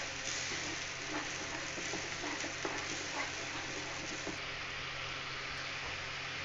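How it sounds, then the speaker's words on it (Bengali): Onions frying in a pan for a Maharani chicken curry, a steady broadband sizzle with faint scraping and stirring textures throughout, no voices. "আমি এইভাবে পেঁয়াজ সেখানে আমি কষে নেব।"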